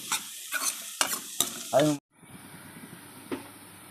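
Beetroot with a little turmeric being stirred and fried in a pan, a few scraping stirs over a soft sizzle, followed by a quieter, steady frying hiss.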